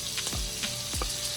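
Hot peppers sizzle steadily in a frying pan while being stirred, with a few soft metallic scrapes of the utensil against the pan, close and fairly quiet with no talking.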